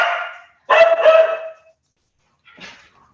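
Barking from dogs in a home: a loud burst of several barks, then a short pause and one fainter bark, with no talk over them.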